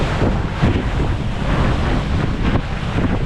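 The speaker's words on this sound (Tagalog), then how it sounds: "Malalaki ang gulong ng alon." Big ocean waves surge and roar continuously around a boat at sea, heavy broadband wash mixed with strong wind buffeting the microphone, no voices.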